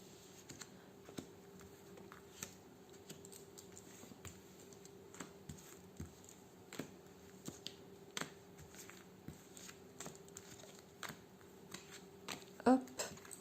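Tarot cards being shuffled and laid out for a nine-card spread, heard as soft, scattered flicks and light taps of card stock throughout, fairly quiet, with one sharper snap near the end.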